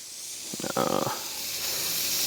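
A Walmart wagyu steak sizzles in a hot pan just after being flipped, giving a steady close hiss with a brief crackling flare as the meat lands.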